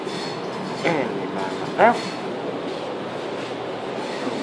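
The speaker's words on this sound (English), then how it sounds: "Not a Tangara, a Millenium train." A Sydney Millennium passenger train runs with a steady rumble from inside the carriage, broken by two brief clanks or squeals. A person talks over it.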